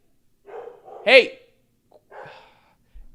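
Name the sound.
dogs barking in the hallway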